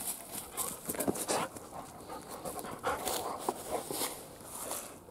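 A dog pants close by in quick rhythmic breaths with a few soft snuffles, steady and moderately loud for several seconds.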